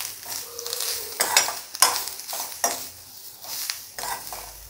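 Grated coconut stir-fried in a pan with already fried green chillies for a hotel-style white vegetable kurma: a close, steady sizzle broken by repeated scraping and clinking spatula strokes against the metal pan.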